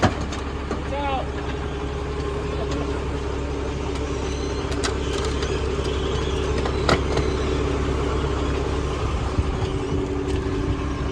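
The engine of a lifted Mazda Miata on big wheels and tires idles steadily with a low, constant rumble, while people talk nearby.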